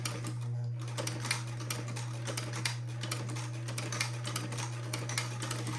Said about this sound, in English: now I will proceed to sew the buttonhole